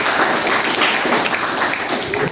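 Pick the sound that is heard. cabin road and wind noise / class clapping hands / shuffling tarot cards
class clapping hands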